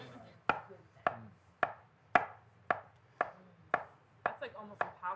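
A sharp knife cuts through a meatball sub with soft mozzarella, about ten crisp, evenly spaced chops that land on a board at a steady rhythm, close and clear in a quiet room.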